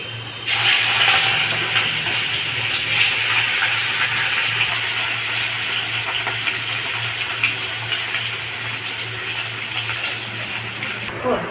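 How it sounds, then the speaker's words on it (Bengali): Katla fish slid into hot oil sets off a sudden loud, hissing sizzle that stays strong and steady, easing slightly over time. "তেলটা গরম হয়ে গেছে, এবার আমি মাছটা ছেড়ে দিচ্ছি।"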